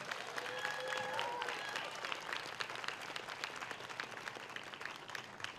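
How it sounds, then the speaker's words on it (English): A crowd claps and cheers at an outdoor community celebration event in Tacoma, dense applause at a distance with a few whoops and faint voices mixed in, slowly thinning toward the end. "Can we give Nate a round of applause?"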